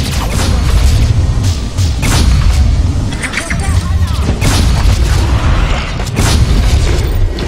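Weapons fire repeatedly down a corridor in the sci-fi arena game Games of Glory, giving loud, dense bursts of booms and mechanical crashes with a brief voice in between.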